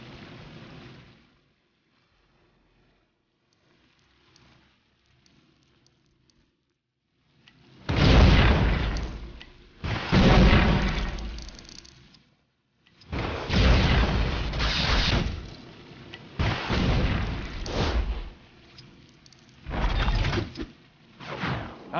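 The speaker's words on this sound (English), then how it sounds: "Try the missiles out on this!" Missiles fired from a suit in LEGO Batman 3, a run of loud whooshing blasts and booms after a quiet stretch, bursting in quick succession with short gaps between them.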